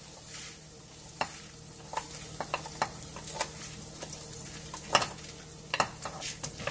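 Urad dal fries in a pan for bisi bele bath masala, a soft steady sizzle punctuated by repeated sharp scrapes and taps of a spoon stirring it.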